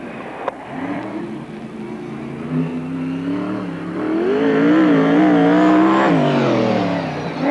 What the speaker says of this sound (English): Davidson driving a John Boy chassis, 360 motor.